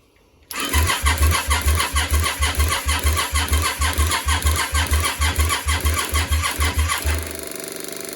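The starter of a Yamaha Virago 535 motorcycle cranks loudly in a fast, even churning rhythm for several seconds without the engine catching, then stops.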